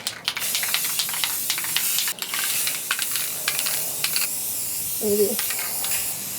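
Rust-Oleum 2X clear gloss spray can coating a guitar neck for a hand-painted Telecaster kit, a series of short airy hisses in quick bursts, close by, with a brief spoken word partway through.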